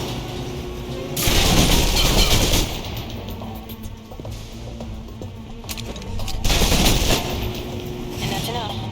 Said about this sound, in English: If you're trapped in close quarters with multiple opponents, the SMGs can help clear the room quickly